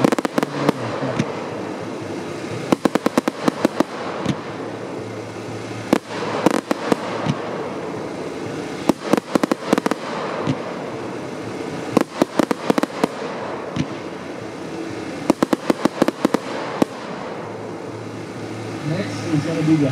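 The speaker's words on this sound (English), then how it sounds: "going to be the 100-shot fan, silver chrysanthemum with silver crisp mine" A 100-shot fan cake of consumer fireworks with silver chrysanthemum and silver crackling mine effects fires a long volley of sharp bangs. The reports come in dense bursts with short pauses between them, loud and punchy over a steady background hiss.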